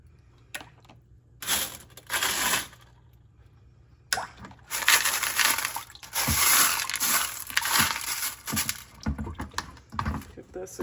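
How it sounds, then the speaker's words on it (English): Lake Superior rocks being rinsed in water after polishing produce bursts of sloshing, splashing and clattering stone, close up and fairly loud, in uneven washes with brief pauses between. "This a good rinse."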